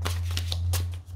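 Oracle cards shuffled by hand during a tarot-style reading, a quick run of soft papery flicks and riffles over a steady low electrical hum, close and fairly quiet.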